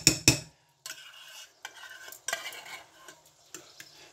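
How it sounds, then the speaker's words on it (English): A tuna and egg mixture stirred in a bowl, two sharp clinks at the start, then a pause and a series of close scraping stirs with small taps, no voices. "Give that a good mix"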